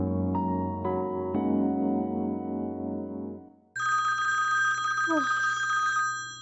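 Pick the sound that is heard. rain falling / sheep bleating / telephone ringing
telephone ringing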